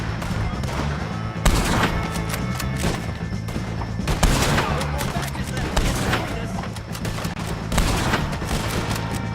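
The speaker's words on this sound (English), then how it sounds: "If you can hear me, shoot some of these O'Driscolls!" Gunfire in Red Dead Redemption 2 during a shootout with O'Driscoll gang members: repeated sharp rifle and pistol cracks in irregular bursts over a constant noisy battle backdrop, with distant shouting voices mixed in.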